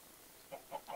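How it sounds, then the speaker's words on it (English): Three short clucking bursts from chickens in Minecraft, rising in loudness over a steady low hum, spaced about a quarter second apart. "This is a lot of chickens."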